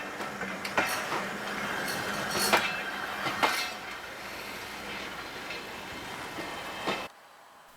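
Passing train of 1950s British Railways Mark I carriages on a heritage steam railway, a steady broadband rumble with sharp clicks and clanks from wheels on rail joints, loud and close, then cutting off abruptly near the end.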